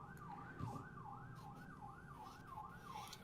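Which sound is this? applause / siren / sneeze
siren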